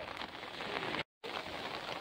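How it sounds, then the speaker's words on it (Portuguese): Steady broadband hiss of afternoon rain falling at high tide in Garopaba, Brazil, continuous and fairly loud, broken by a brief moment of total silence midway. "São 15 horas e 30 minutos e está chovendo, além de maré alta."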